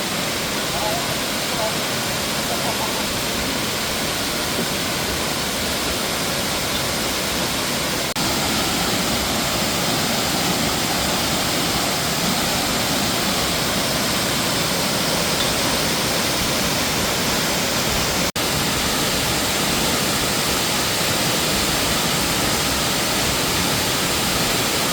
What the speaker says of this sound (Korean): 먼저 쌍폭포에 도착했어요